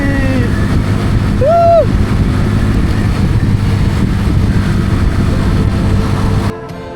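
A Royal Enfield motorcycle riding along a road, its steady engine drone and wind rush continuous and loud throughout, dropping off abruptly near the end.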